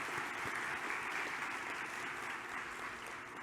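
An audience at a municipal officers' association annual general meeting applauds newly accredited members, a steady, even roar of many hands clapping that stays constant throughout, heard somewhat quietly and at a distance.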